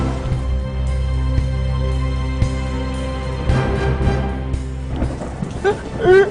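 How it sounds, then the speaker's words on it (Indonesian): A heavy rainstorm with rolling thunder fills the scene, a loud low rumble under steady rain hiss, with rising clatter and noise toward the end. "Mana hujan lagi."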